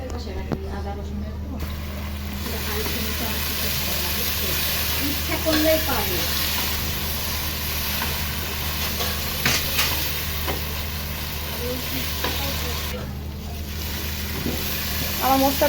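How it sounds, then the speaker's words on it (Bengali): Masala for a coconut crab bhuna frying in oil, a continuous hiss with intermittent stirring scrapes and clinks, and a voice speaking over parts of it. "কষানো শেষ এই দেখো যখন তেল বেরিয়ে আসলো এই যে মশলা থেকে"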